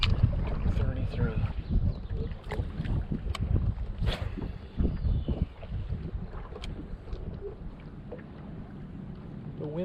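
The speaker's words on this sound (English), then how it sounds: "The wind died a little bit" Wind on open water around a bass fishing boat, heard as a steady low rumble with gusty microphone buffeting and faint splashing, with a voice talking over it now and then.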